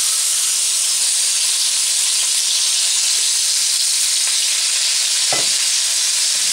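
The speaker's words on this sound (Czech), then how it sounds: "Při vysoké teplotě prudce smažíme asi 1 minutu." Beef strips fry hard in oil in a very hot pan, giving a loud, steady sizzle throughout with a brief clatter near the end and no voices.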